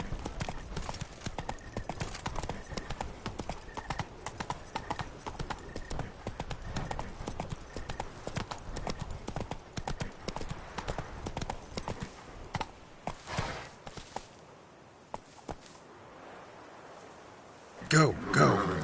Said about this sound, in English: Where are you skittering off to, Silver Maid? Giddy up